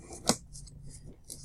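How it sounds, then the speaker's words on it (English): Sharpened scissors cut open a big cardboard box of trading cards, giving one sharp snip followed by faint rustling and shuffling at close range with no voices. "I've got my scissors sharpened as well, so I can open boxes to greater degrees of accuracy"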